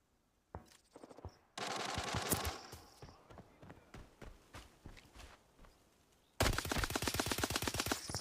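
Automatic gunfire in the Arena Breakout shooter game at a motel, with a long sustained burst of rapid shots, then spaced single cracks and footsteps, and finally a loud dense volley at close range, with no talking.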